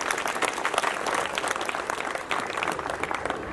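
An audience at a Guru Ghasidas Jayanti celebration breaks into loud, sustained applause, dense clapping filling the room steadily from start to finish with no voice over it.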